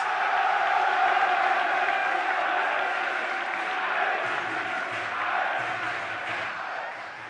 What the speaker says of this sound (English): A round of applause for St.